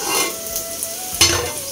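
Potatoes being stirred and fried in a home kitchen pan over a lowered gas flame, a steady soft sizzle with a brief louder scrape of stirring near the end, heard close and alone.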